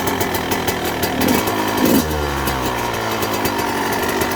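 The engine of a Yamaha YZ125 two-stroke dirt bike buzzes at close range. It rises in two short revs near the middle, then drops back to a rattly idle.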